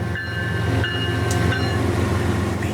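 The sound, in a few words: Southern Railway heritage locomotive 8099 leading northbound NS train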